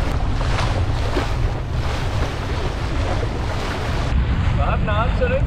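MacGregor 26 trailer sailboat underway on Mark Twain Lake, with constant wind buffeting the microphone and water rushing along the hull, loud and close; near the end a brief cluster of high chirping sounds cuts through.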